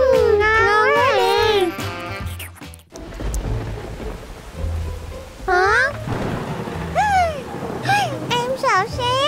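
A thunderstorm in a children's cartoon brings deep rolling thunder and steady rain noise between high animated voices, the storm rumbling loudly and close beneath brief spoken exclamations.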